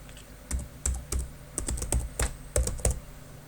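A password is typed on a computer keyboard in short bursts of close, crisp keystrokes with brief gaps, and no speech.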